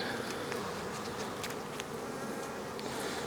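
Honey bees swarm around an open hive during an inspection, a continuous close buzzing hum with faint individual wingbeat passes, alone without speech.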